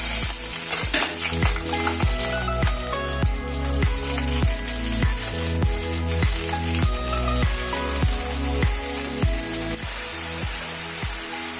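Fresh greens and green chillies fry in a hot pan with a continuous sizzle and occasional stirring, over a steady tonal background.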